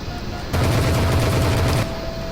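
Rapid aircraft cannon fire from the Vector Thrust flight combat game rattles out in one sustained loud burst of more than a second, a dense hammering rattle over a steady engine drone.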